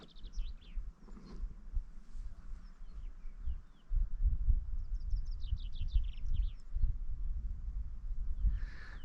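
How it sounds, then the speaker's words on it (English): Birdsong on a mountain hike in La Alpujarra, southern Spain, with chaffinches and a distant great spotted woodpecker: scattered high chirps and short trills, mostly faint, over steady low outdoor rumble and wind. "Lots of birdsong."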